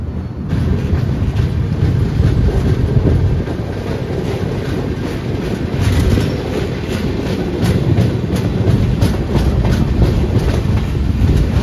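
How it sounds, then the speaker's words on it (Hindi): Jaipur Bandra SF Express running behind a WAP-7 electric locomotive, heard from on board as a steady loud rumble with rhythmic clickety-clack of wheels over rail joints and some wind noise throughout. "लोकोमोटिव चेंज हो चुका है, तुगलकाबाद का ही WAP-7 लगा हुआ है"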